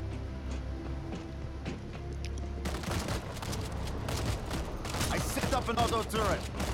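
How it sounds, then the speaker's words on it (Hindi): An automatic machine gun turret fires in the World War Z video game, a dense, rattling burst of gunfire that starts partway through and keeps going loudly, mixed with game effects and a voice talking over it. "ऑटोमेटिक मशीन गन लगा दिए मैंने यहाँ पे"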